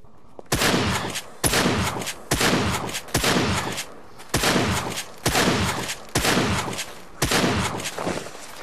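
Gunshots at a pig in the video game 7 Days to Die, nine loud evenly spaced shots, each a sharp crack with a short rumbling tail, close and alone without talking.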